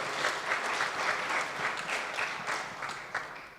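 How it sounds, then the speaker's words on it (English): An audience at the International Tax Conference 2022 claps for the best papers, a steady wash of many hands with rhythmic pulses, moderately loud and continuous throughout. "Please big applause for the 4 best."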